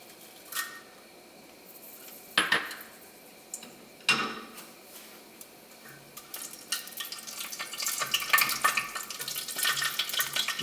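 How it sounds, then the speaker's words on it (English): Dried red chili peppers fry in hot cooking oil, giving faint scattered pops and crackles that build into a denser, steadier sizzle toward the end. "now I'm going to fry some dried out red chili peppers"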